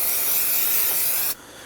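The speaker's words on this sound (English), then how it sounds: "You can use some spray solvent." Spray solvent hisses onto the coolant expansion tank in the engine bay of a 2009-2017 Volvo XC60 3.2L inline-six, a steady close broadband spray lasting just over a second before cutting off sharply.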